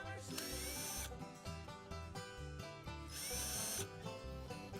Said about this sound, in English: So I'm just going to chamfer these just a little bit.